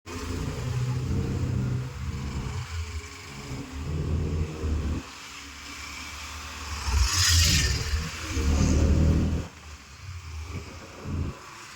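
An auto rickshaw engine runs nearby with a continuous low, throaty rumble that swells and eases a few times, heard over street background with no one talking.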